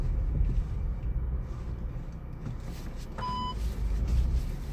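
A 2022 VW Polo GTI driving over a pebbled road, heard from inside as a steady low rumble of tyres and suspension, with a brief electronic chime partway through and no talking.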